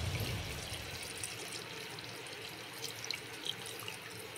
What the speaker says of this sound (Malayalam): 1-ാം പാൽ ഒഴിച്ചു കൊടുക്കാം.